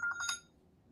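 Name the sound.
mobile phone alarm going off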